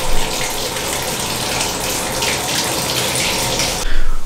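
Water gushes from a tap into a tub filling for an ice bath, a steady, loud rushing splash that holds constant, then ends in a brief heavier surge and thump.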